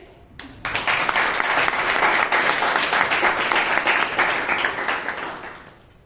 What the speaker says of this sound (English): Huge round of applause, guys.